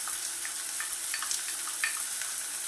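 Onions and small green chilies sauteing in coconut oil for a Mangalorean egg roast, giving a steady close sizzle with scattered light pops and stirring scrapes throughout, no voices.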